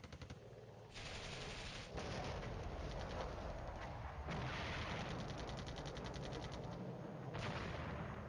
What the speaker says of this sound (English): It doesn't seem to be caring that we're hitting them with artillery.